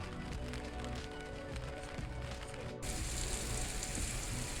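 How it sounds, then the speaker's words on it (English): Rain falling steadily at an outdoor JDM car meet, a continuous broadband patter that grows slightly louder and hissier partway through, with no talk. "So the rain become a little bit heavier"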